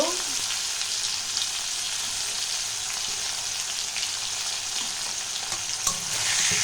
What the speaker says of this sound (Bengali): নুনটা দিয়ে দিলে না টমেটোটা বেশ গলে যাবে, ভাজা হয়ে যাবে